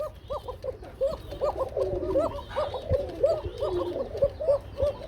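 A breeding pair of pigeons coos steadily and repeatedly at close range, the soft rounded calls overlapping in a continuous rhythm with faint background noise.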